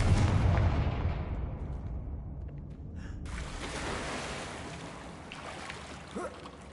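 Booming Confringo spell explosions in Hogwarts Legacy: a heavy, loud blast opens with a deep low rumble, then a long, broad roar that slowly fades with a few smaller crackles near the end.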